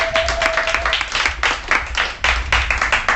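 A church congregation at a Bible study and prayer meeting claps loudly and continuously, dense hand claps filling the room.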